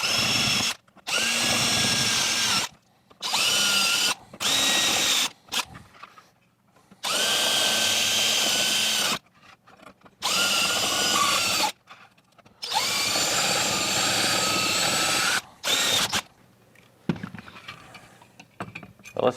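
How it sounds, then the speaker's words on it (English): A power drill whines in repeated bursts of a couple of seconds each, drilling out rivets on a Ford Bronco vent weatherstrip, loud and close, with brief pauses and faint clatter between runs. "next step is we're going to drill out the rivets"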